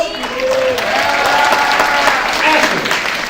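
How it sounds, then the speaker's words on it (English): A keynote audience gives a round of applause for a guest named Ashley, full steady clapping filling the room with cheering voices and chatter mixed through it. "Can we give a round of applause?"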